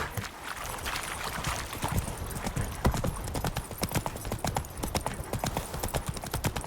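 Geralt's horse Roach galloping in the video game The Witcher 3: Wild Hunt, rapid rhythmic hoofbeats pounding on a dirt path, close and steady, with a soft ambient outdoor bed behind.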